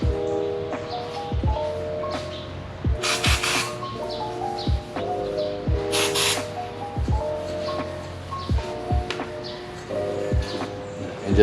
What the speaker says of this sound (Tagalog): we want to get some brake cleaner and just clean the exhaust before we put on the covers back.